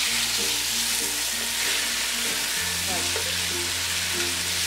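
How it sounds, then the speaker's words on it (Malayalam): Chopped tomato fries in Dalda and ghee in a pan, giving a loud, steady sizzle close to the microphone with no talking. "ഇതിലേക്ക് ഈ അരിഞ്ഞു വെച്ചിരിക്കുന്ന ടൊമാറ്റോ ചേർത്ത് കൊടുക്കാം"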